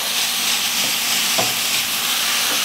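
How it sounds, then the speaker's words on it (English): Ground beef with garlic frying over medium heat while being broken into small pieces: a steady, loud, close sizzle and hiss, with faint scraping strokes now and then. "Working pretty quickly here to stop our garlic from cooking. Breaking down that ground beef."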